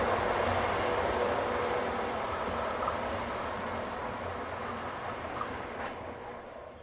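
SNCF locomotive 16103 passes near Rouen hauling double-deck passenger coaches toward Paris, a steady loud rumble of wheels and rolling stock with faint rhythmic clatter, continuous throughout and easing slightly toward the end.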